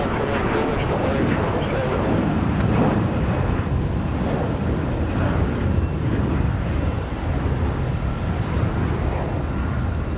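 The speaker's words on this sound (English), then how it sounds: "Enjoy the 777 departure." An American Boeing 777 heavy jet taking off from runway 23 left at Raleigh-Durham airport at night, a steady loud broadband engine roar that holds for the whole stretch with no gaps.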